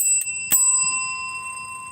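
A small bell is struck once, then sharply again, producing a bright, close ring with a sustained shimmering tone that slowly fades, heard alone.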